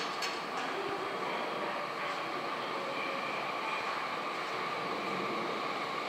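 A Tokyu 5000 series commuter train, set 5177F on a local service terminating at Yokohama, pulls into a station with a steady broad rumble and faint rail noise heard from some distance.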